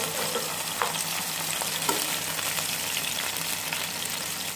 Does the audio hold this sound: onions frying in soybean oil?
yes